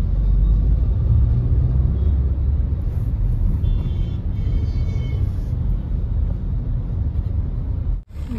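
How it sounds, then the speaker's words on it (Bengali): Steady traffic rumble on a narrow street in Varanasi with autos, e-rickshaws, bikes and scooters passing, a continuous low engine drone with a faint higher whine midway and a sharp knock near the end. "সংকীর্ণ রাস্তা, টোটো, অটো আর বাইক, স্কুটি তো আছেই, এছাড়া মাঝে মাঝে বড় বড় গাড়িও আসছে"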